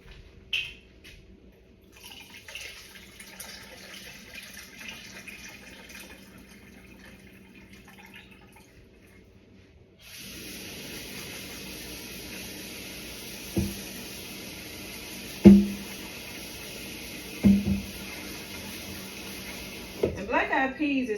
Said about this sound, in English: now the beans are ready to be drained and rinsed